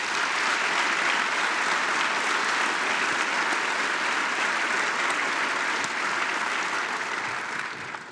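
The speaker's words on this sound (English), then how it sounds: "How about if we give all of our awardees, both last year's and this year's, one more round of applause, please." A large audience at a space symposium opening ceremony gives a round of applause for awardees, steady dense clapping filling the whole stretch and easing slightly at the very end.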